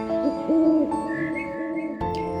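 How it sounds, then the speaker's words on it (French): An owl hoots, rising and falling whistled hoots repeating several times over a steady tonal background, then a sharp click near the end. "La chouette Udule, elle s'en fout."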